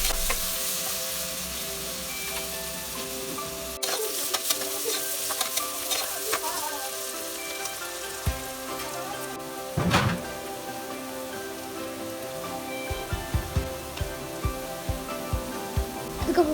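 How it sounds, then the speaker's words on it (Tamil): Onions, cinnamon and cloves sauté in a pan with a continuous steady sizzle, broken by occasional scraping stirs of a spoon, close and moderately loud. "பட்டை, லவங்கம், வெங்காயம்லாம் போட்டு நல்லா வதக்கி விட்டுக்கோங்க."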